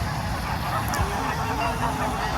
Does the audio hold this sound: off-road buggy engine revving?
no